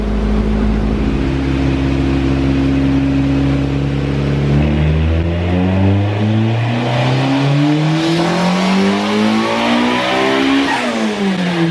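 A Honda Integra engine runs on a dyno while warming up, a loud steady drone with a low rumble that climbs in pitch as revs rise, then falls and rises again, no voices over it.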